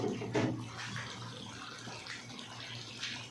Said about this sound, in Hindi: अभी इसके अंदर जो है ना पानी डालेंगे, पानी डालने के बाद फिर जो है ना चावल डालेंगे।